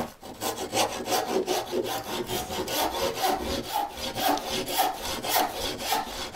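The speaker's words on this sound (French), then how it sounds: "je vais prendre une scie, on va dire une scie de bonne qualité quand même" A good-quality hand saw cuts through a piece of wood in steady back-and-forth strokes, a rhythmic rasping about two strokes per second, close and moderately quiet with no talking.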